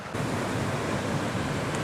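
A glacial river rushes through a gorge in Slovenia, a loud, steady broadband roar of flowing water, close and continuous without pauses, with no talking over it.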